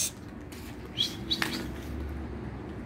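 Pigeons in a coop make a few short, fairly close chirps and flutters over a steady low background hum, with no talk.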